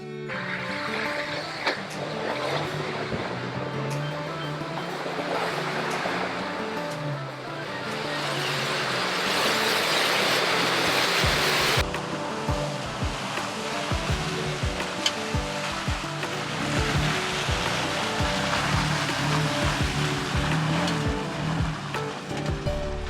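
A 2021 Toyota Tacoma TRD Pro ploughs through a mud hole on a Florida Panhandle off-road trail, its engine rumbling under a rushing, splashing roar of churned water and mud that swells loudly midway, then gives way to sloshing and knocks.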